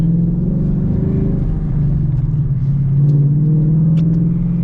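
A 2021 Ford Mustang GT Premium's engine revs on its own, a loud, close, deep rumbling burble that swells and settles with no speech over it.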